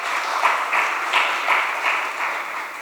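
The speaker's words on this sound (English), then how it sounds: "And another round of applause, please." Audience applause for dancers at an event, a steady wash of many hands clapping at moderate loudness, with no talk over it.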